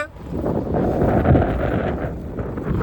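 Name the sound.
strong wind on the road to Ghughudanga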